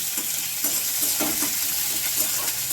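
Chopped medium onions hitting hot oil and tempering spices in a pan, a bright continuous sizzle with a few scraping stirs of a spatula, close and steady.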